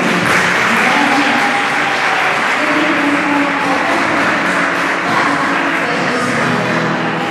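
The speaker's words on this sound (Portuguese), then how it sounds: "Palmas para o nosso Senhor." A church congregation claps in praise together, a steady dense wash of hands held at full strength for several seconds, with faint murmuring voices mixed in beneath.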